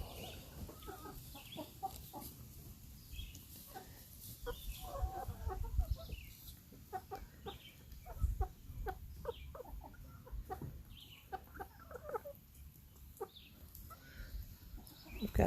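Backyard hens clucking repeatedly in short irregular bursts close by, with occasional louder squawks over a steady low outdoor background; no talking.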